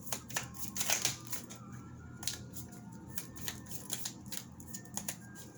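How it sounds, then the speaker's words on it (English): Soft riffling and flicking of tarot cards being shuffled, quick papery bursts repeating at close range in an otherwise quiet room. "One more shuffle."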